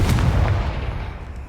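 A Confringo blasting spell fires in Hogwarts Legacy, a single deep booming blast that rumbles and fades over a second or so.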